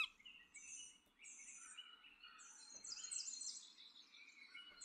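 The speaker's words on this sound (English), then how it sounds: "buy Seagull" Seagull calls from the Super Auto Pets video game, a series of high, bright chirping cries in short bursts over a faint, quiet background.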